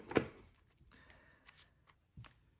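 Tarot cards being shuffled by hand during a reading, a soft riffle burst at the start followed by faint scattered card rustles, quiet and close, no talking.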